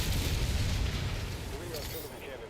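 Heavy artillery cannon fire in a video game rumbles as dense, low booming bursts that stay loud throughout and fade slightly toward the end.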